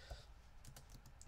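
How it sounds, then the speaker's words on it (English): Soft, quick keyboard clicks tap out an irregular patter, close but quiet, with no voices. "I can't explain while I'm typing"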